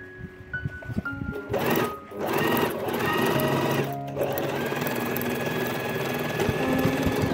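A sewing machine stitches a crisscross pattern across the fabric lining of a crochet wallet, running in steady continuous bursts with a brief pause near the middle, loud and close.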